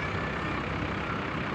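A tourist bus moves through a beach parking lot at Cemara Sewu, its heavy engine giving a steady low rumble at moderate distance with no voices.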